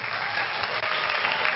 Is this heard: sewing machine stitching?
no